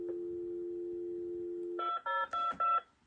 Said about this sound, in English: This time we're going to hear it dialing out